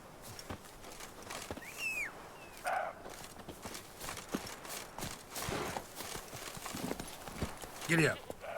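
Horse hooves clip-clop at a walking pace in The Witcher 3: Wild Hunt, a steady rhythm of hoofbeats with faint voice sounds and small game noises scattered over it.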